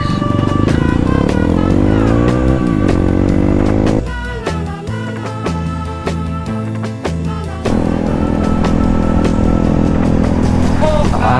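A trail motorcycle revs loud and close throughout, its engine pitch rising and falling with throttle changes and a brief dip as the rider eases off, on a light trail ride in Bulacan.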